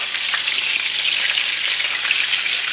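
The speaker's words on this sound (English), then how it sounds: "We're sizzling." A sirloin steak sizzles loudly and steadily in a frying pan after being flipped, a dense, continuous hiss close up with no breaks and no voices.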